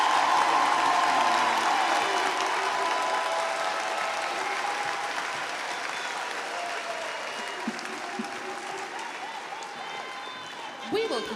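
A commencement audience applauds the Yale Gordon College of Arts and Sciences graduates at the University of Baltimore. The clapping is full and crowd-wide at first, then slowly thins and fades, with a few louder claps standing out near the end.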